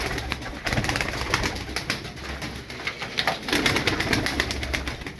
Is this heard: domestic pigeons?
yes